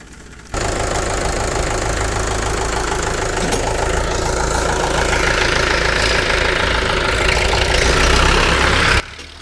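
A tractor engine labours hard with a steady knocking diesel chug while pulling a stuck tractor free in a village field, loud and continuous for most of the clip before cutting off near the end.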